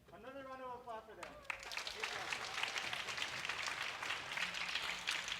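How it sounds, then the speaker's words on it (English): A voice speaks briefly, then a school awards assembly audience breaks into steady applause that continues to the end, fairly faint and even. "Another round of applause for them."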